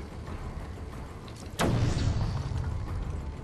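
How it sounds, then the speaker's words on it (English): A sharp blast goes off in Batman Arkham Origins, a sudden explosion that cuts through a low ambient hum and leaves a lingering rumble after it. "Of course, they can't hear the explosions."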